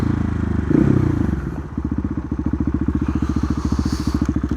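A 2020 KTM 690 SMC R single-cylinder motorcycle with decat exhaust and no silencer, loud and close, rising briefly then settling into a rapid, steady thumping idle.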